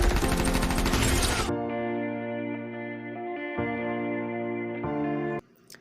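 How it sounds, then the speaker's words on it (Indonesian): Rapid, dense gunfire from an action film's bank robbery shootout bursts loudly for over a second, then gives way to a sustained electronic, tonal music drone. "Karena panik dengan baku tembak yang terjadi, Cam secara spontan menembak Will karena dia"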